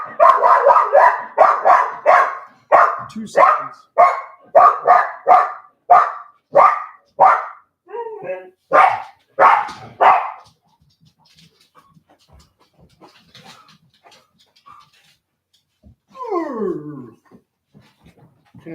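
Dog barking in a steady rhythmic run of about a dozen loud, close barks, followed by quiet and a brief whining howl near the end.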